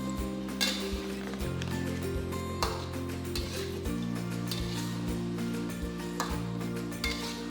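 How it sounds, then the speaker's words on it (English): Spare ribs with tomato are stirred in a pan, sizzling steadily while a utensil scrapes and knocks against the pan in repeated bursts, under a low background tone. "Give all this a good mix."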